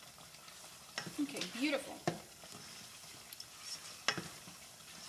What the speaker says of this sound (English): we've transferred all of that into our tomato base, and we're going to mix it